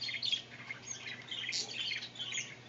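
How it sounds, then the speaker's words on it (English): Small finches in a room with other pet birds, giving short high squawks and chirps, moderately close but fairly quiet over a steady low hum. "Hey, you little finches."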